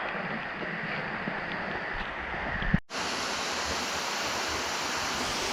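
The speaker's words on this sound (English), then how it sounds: "This is warm water flowing directly from the rock" Warm spring water flows straight from rock in an Omani wadi, a steady close wash of splashing noise that breaks off for a moment midway and then resumes just as strong.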